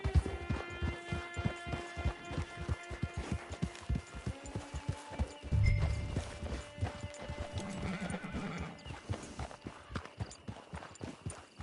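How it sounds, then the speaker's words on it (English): Video game horse hooves clip-clop in a steady walking rhythm, close and continuous, while whinnies and snorts rise partway through over a quiet outdoor camp ambience with soft music. "It's your horse."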